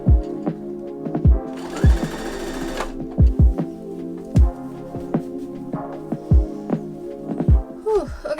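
A sewing machine stitching a pocket onto cargo pants made from a tablecloth runs in one short, even burst of about a second, set among scattered dull knocks and thumps from handling the fabric.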